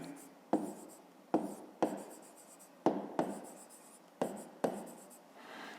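Pen strokes writing out a math answer on paper, six or seven quick scratchy bursts in an irregular rhythm, close and fairly loud with short pauses between, no voices.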